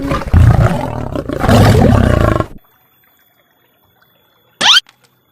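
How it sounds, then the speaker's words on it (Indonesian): A lion lets out a loud, close roar in two long, gravelly bursts, followed by near silence and then a brief sharp splash-like sound. "suaranya singa itu seperti ini teman-teman"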